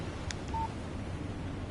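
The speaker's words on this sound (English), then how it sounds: "Text message from Barry." A short electronic text-message alert from a phone in Alan Wake Remastered, a brief chirp followed by a single clean tone, heard alone over a low, steady game ambience.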